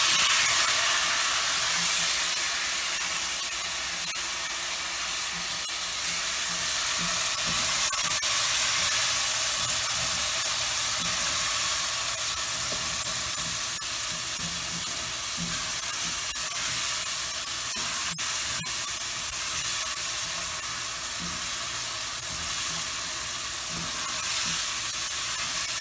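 Browned onion and added ingredients sizzle in a hot pan for brown rice with chicken as they are stirred, giving a steady, loud hiss with occasional scraping clicks throughout.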